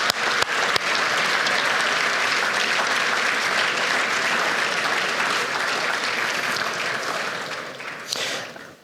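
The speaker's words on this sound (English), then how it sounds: "Please give Alstom a round of applause." Sustained, dense applause from a large audience at a railway industry awards dinner, steady for about eight seconds before tapering off at the end.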